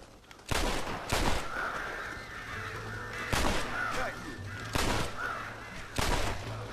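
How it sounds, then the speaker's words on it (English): Crows caw near a corn silo in Red Dead Redemption, their calls drifting through the scene while loud game gunshots crack out about five times at irregular intervals; no one talks. "Protect the corn from the crows."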